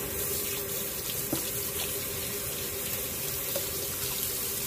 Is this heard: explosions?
no